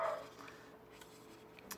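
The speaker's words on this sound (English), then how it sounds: "You might hear my dog in the background." A pet dog barks faintly in the background of a quiet indoor room, a few short distant yips scattered across the moment.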